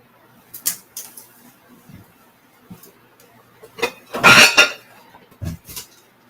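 Ceramic dishes are picked up and set down during a live sale, giving sharp, close clinks and clatters in scattered bursts with quiet gaps, the loudest cluster near the middle.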